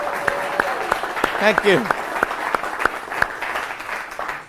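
Audience applause at a magic lecture, a steady patter of clapping throughout with someone speaking briefly over it partway through.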